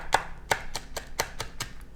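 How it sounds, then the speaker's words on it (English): Garlic being chopped fine with a knife on a cutting board in a home kitchen, a steady series of about eight sharp, close knife taps against the board with no talking. "we're chopping them really tiny"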